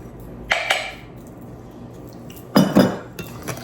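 A spoon clinks against a mixing bowl as flour is stirred into wet donut batter, giving two short pairs of ringing taps separated by a quiet pause.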